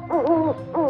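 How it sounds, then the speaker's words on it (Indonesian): An owl hoots twice at night, a long wavering call followed by a shorter one, clear and fairly close with no other sounds. "Ya itu adalah suara burung hantu"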